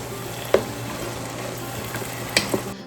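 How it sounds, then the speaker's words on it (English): Smoked paprika stirred into simmering sloppy joe meat in a pan, a steady close sizzle with a few sharp spoon clinks against the pan. "Actually, smoked paprika. Let's stir that in."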